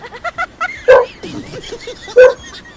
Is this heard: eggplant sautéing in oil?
no